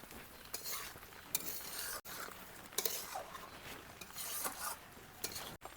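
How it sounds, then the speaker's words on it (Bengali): Chalta prawn curry with cashews and red chilli powder being stirred in a pan: steady scraping and clinking of a utensil against metal, with a soft sizzle underneath and a few sharper knocks. "এবার এদিক ওদিক নাড়াচাড়া করে নেব।"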